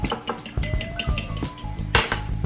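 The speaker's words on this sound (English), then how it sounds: "And then just mix it with the fork" A fork clinks and scrapes against a bowl while eggs are mixed into cinnamon roll dough, with repeated sharp metallic taps and a few ringing glassy chimes, close and loud with no talking.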